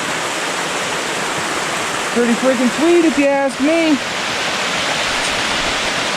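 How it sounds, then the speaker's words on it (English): A Montana waterfall roars as a steady, close wash of rushing water, with a voice speaking briefly over it midway. "Oh, waterfall."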